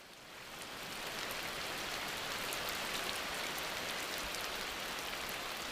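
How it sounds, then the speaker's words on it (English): Steady rain of a daily tropical rainy-season downpour hisses evenly and fairly softly, a dense wash of drops that swells in over the first moment and then holds constant with no voices. "For many animals, the daily downpours of the rainy season provide a welcome break from the stifling heat of the dry months."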